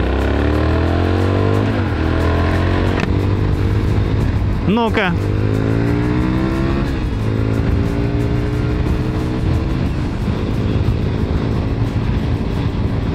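A Cagiva Raptor motorcycle engine revs and accelerates through rising and falling pitch sweeps, loud and close, with a brief sharp rev in the middle and a person speaking briefly over it.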